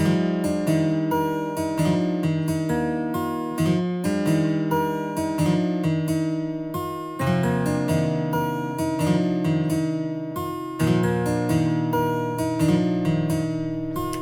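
A plucked guitar melody for a pluggnb beat repeats a steady pattern of bright, clearly articulated notes over sustained chords, played alone without any voices.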